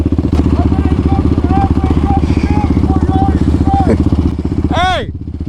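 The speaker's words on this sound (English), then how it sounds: "That dirt bike is fast" Dirt bike engine running loud and close throughout, with a steady rapid firing pulse and a rising rev near the end, while people talk over it during a winter group ride.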